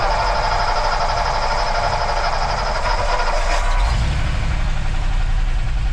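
A loud, steady rumbling old truck engine idles close by on full choke, its deep low drone thickening partway through as it revs.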